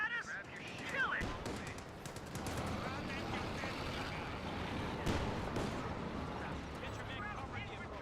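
Gunfire in the video game Company of Heroes 2, bursts of shots and rumbling battle noise running under voices, moderately loud and continuous.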